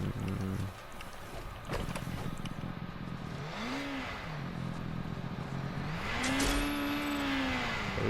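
A vehicle engine in Fortnite Creative hums and swells, rising and falling in pitch twice as it accelerates along a road, over a steady background bed with no clear talk.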